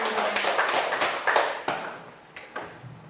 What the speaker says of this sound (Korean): 하나님께 영광 박수 드립니다.